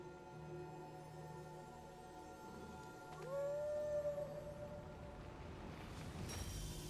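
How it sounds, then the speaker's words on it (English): A wolf-dog companion in the video game Final Fantasy XIV lets out a single rising, drawn-out howl midway, clear over a low ambient music bed. "Would the Torgal howl on the way out?"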